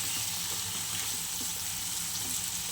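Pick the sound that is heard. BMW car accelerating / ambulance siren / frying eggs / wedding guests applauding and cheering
frying eggs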